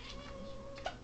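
A house cat meows once, short and fairly quiet, near the end of a brief moment of soft room background.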